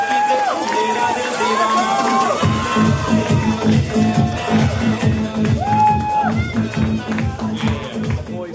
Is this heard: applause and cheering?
yes